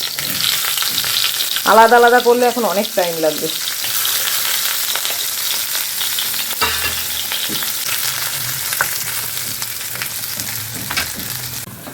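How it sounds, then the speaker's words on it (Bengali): Eggplant and pumpkin frying together in a pan over a gas flame, a steady oily sizzle throughout with occasional stirring clinks, while someone speaks briefly over it. "আজকে বেগুন আর কুমড়ো একসঙ্গে ভাজা করব"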